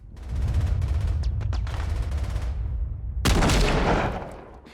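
Bursts of gunfire in a Saving Private Ryan war scene, a rapid volley of loud cracks with booming echoes, then a second heavy blast of fire before it fades.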